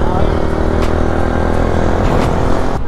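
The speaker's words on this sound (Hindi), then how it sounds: "एग्जॉस्ट लगा रखा है अंकल" A motorcycle fitted with an aftermarket exhaust rides along on the road between Roorkee and Dehradun, its engine drone steady and fairly close, with rushing wind and a few brief clicks over it.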